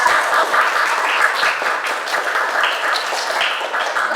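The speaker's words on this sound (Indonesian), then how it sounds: "tepuk tangan untuk kelompok visual" A group claps and applauds steadily for a few seconds, a dense, close patter of many hands.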